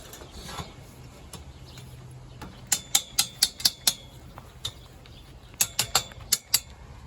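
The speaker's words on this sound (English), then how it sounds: "I'm going to fasten this on here really quick." Fastener work on greenhouse end-wall framing for a polycarbonate-glazed high tunnel: two quick bursts of sharp, evenly spaced ratcheting clicks, about six each, close and distinct over a quiet background.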